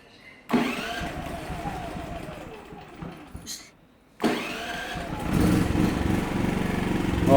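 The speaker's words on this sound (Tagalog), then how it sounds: "testingin natin ngayon kung okay na yung tunog ng ating generator." Portable generator, PK4200ie2 model, cranked on battery start: a brief engine burst that dies back, then a second start catching and settling into a steady mid-pitched running drone, fairly close.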